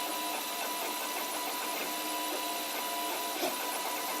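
A 3D printer lays down a cylinder-shaped part with stepped pegs, its stepper motors whining in continuous tonal patterns up close, with a small bump near the end and no speech.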